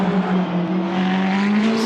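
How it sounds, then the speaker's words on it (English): A Porsche 911 race car engine in a racing video game roars steadily at high revs, a loud sustained drone with a rising pitch, no voices. "on the final cars we have sound mods for, the Porsche 911."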